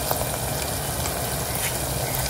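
Turmeric, Malvani masala and red chili powder roast in hot oil, producing a loud, close, continuous sizzle with an even hiss and no speech.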